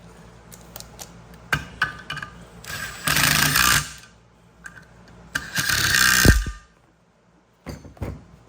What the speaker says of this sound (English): use the bolts to cut new threads